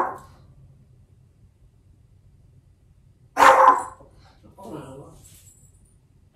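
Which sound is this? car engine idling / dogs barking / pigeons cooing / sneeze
dogs barking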